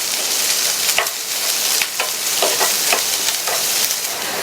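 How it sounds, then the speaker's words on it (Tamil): Sliced okra fries in hot oil with a steady, loud sizzle, while a utensil scrapes and stirs the pan in irregular strokes throughout. "அதை சேர்த்துட்டு இந்த வெண்டைக்காயை 5 நிமிஷத்துக்கு இந்த எண்ணெயிலேயே வதக்கிக்கங்க."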